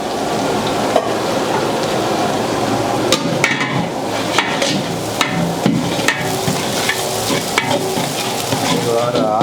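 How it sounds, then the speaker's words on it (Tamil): Onions sizzle and fry with mint leaves in a large pot for a seven-kilo chicken biryani, steady loud crackling with repeated metallic scraping and clanks of a ladle stirring throughout, no voices. "ஏழு கிலோ பிரியாணியோட அளவுக்கு ஒரு அரை கட்டு புதினா இந்த வெங்காயத்தோட போட்டு வதக்கிக்கணும்."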